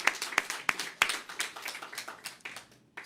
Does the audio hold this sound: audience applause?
yes